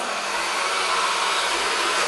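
Philips electric mixer creaming butter and sugar for a lemon drizzle cake, a steady loud motor whir held without a break, no voices.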